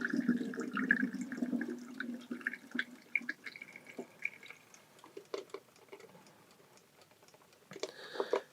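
Water pouring and splashing as color film is washed in a development tank, an irregular near trickle with small clicks and taps from handling the tank, fairly quiet.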